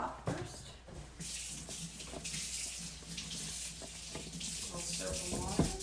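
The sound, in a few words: washing a pan with soap and water at the sink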